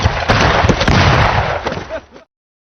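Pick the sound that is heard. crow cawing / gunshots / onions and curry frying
gunshots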